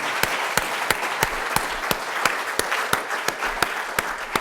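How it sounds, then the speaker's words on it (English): Audience applause at a Metro Boston equity agenda release event, a steady wash of clapping from a crowd with sharp individual claps standing out at regular intervals, fairly loud and without speech. "I want to give another round of applause to everybody who's been part of this day today."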